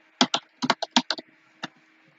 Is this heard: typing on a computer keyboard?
yes